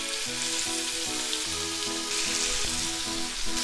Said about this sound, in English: put the chicken on the frying pan.